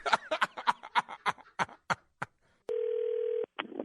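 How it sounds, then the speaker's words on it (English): After a run of laughter and chatter, a telephone dial tone sounds as a steady, clear hum for under a second, followed by a brief burst of voice. "Call him back, Cat."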